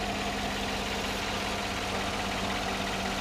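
A 2014 Chevy Silverado 1500 Z71 with a 5.3 liter V8 idles smoothly, a continuous low, even rumble with no change in pitch.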